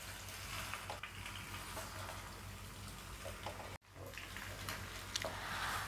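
Boiled macaroni stirred into masala in a hot pan gives a steady low sizzle with soft scraping, close and even, broken once by a brief cut to silence.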